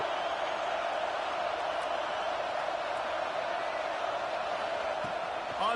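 Steady stadium crowd roar fills a college football video game, a dense, even wash of cheering that stays constant throughout at moderate loudness.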